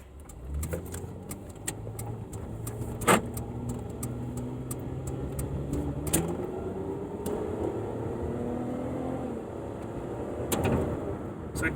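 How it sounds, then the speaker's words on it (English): Custom exhaust on a Dodge Avenger with its valve opened, idling on a hot Las Vegas day: a steady low rumble with shifting engine tones, blips rising and falling, heard alone at moderate level. "So it does open the exhaust more, like I said. You can hear it."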